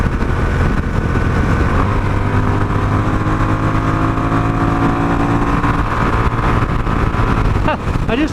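A Honda Rebel 1100 DCT motorcycle at speed, its engine droning steadily with shifting tones under heavy wind rush, and a rider's voice intermittently over it.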